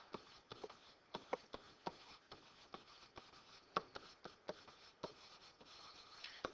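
A pen writing lesson notes on paper, quiet and close, with short irregular scratchy strokes and taps repeating steadily throughout, no voices present.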